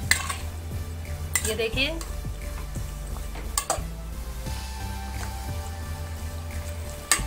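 A utensil scrapes and clanks against a pot while meat fries for Muradabadi biryani. There are intermittent metallic knocks over a low sizzle, and a voice speaks briefly.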